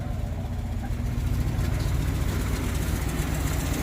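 A 1967 Buick Skylark engine, pulled from a storage unit with oil put down its cylinders, runs in a steady, loud, low rumble without pause, close by and with no talk over it.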